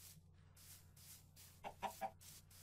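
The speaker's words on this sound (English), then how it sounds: "Chicken!" A Minecraft chicken gives three quick, quiet clucks in a row amid a faint game ambience, soft and close.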